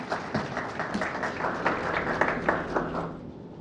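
An audience at a health and wellness trade show gives a round of applause to welcome a speaker, a steady wash of many hands clapping that fades slightly toward the end.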